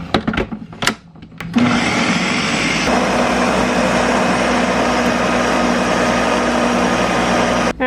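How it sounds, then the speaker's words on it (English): A countertop blender runs steadily on mulberries, a loud continuous whirring drone that starts abruptly after a few brief clatters and holds for several seconds before cutting off. "But we're gonna get these mulberries all blended up first."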